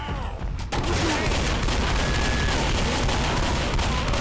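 Shotgun and rifle fire erupts in the zombie shooter game Left 4 Dead on a Silent Hill map, with a dense, continuous barrage of loud shots that starts abruptly after a brief lull.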